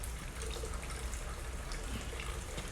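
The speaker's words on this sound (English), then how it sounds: "So water will fall down and it will stop." Water draining from a U-tube manometer valve into a flask, a continuous close trickle and splash that holds at a fairly even level throughout, with no one talking.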